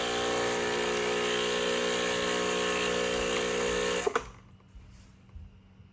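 A Breville espresso machine's pump runs at full power during extraction, a loud, steady vibrating buzz lasting about four seconds before cutting off abruptly, leaving quiet room noise with a few soft clicks.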